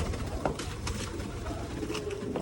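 Soft pigeon cooing over a busy background rustle, low and murmuring, with no clear speech.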